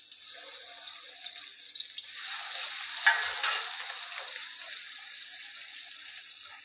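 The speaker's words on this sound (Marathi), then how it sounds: "त्यामध्ये टाकून घेऊया आपण हा वाटलेला मसाला" Ground masala frying in two spoons of hot oil in a kadai, a steady sizzle that swells and then fades slightly, close and alone.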